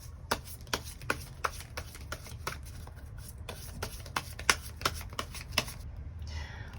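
Tarot cards are shuffled by hand in a rapid, steady series of crisp riffling snaps, close and fairly quiet, ending with a softer slide as cards are drawn.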